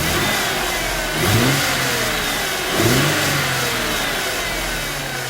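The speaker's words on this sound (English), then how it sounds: "Give it a little gas." A car engine revs twice under a little gas, each rise swelling briefly above a steady idle, close and loud; the car is being checked for a bad or blown head gasket.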